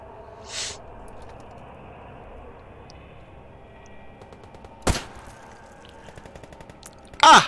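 Sparse shots ring out in the STALKER GAMMA shooter game, armor-piercing rounds fired as a few sharp isolated cracks over a low ambient hum, the last one loudest.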